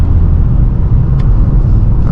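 Dodge Charger RT engine downshifting during a drive, heard as a steady low rumble from the cabin, loud and continuous with a brief rise in revs near the end.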